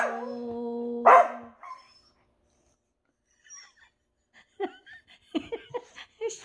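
A corgi lets out a sustained tonal howl, then a sharp bark, followed by silence and scattered short yelps and barks, close to the microphone.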